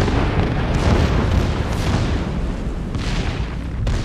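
A torpedo strikes a ship in the naval battle game World of Warships, a loud, dense rumbling explosion that roars continuously and fades slightly toward the end.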